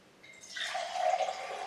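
Water pours from a mug in a magic trick, a steady splashing stream that starts softly and swells into a continuous rushing pour.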